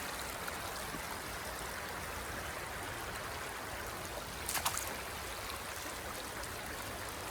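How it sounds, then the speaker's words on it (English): A small outdoor stream flowing steadily as someone crosses it, a soft continuous rushing wash with a brief splashy disturbance midway, fairly quiet and even. "I'm crossing a stream and I want to make sure that I don't get wet"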